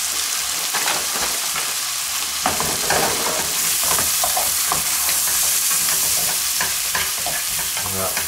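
Pieces of lamb dusted with a spoonful of flour, sautéing in a pan and being stirred, with a loud, continuous close sizzle and frying crackle throughout, no voices.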